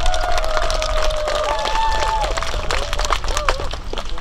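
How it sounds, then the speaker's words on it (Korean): An outdoor crowd at the opening ceremony of a Korean garden festival in a peace park claps and cheers loudly and continuously, with voices and a held tone running under the applause. "박수가 좀 작습니다. 한 번 더 박수!"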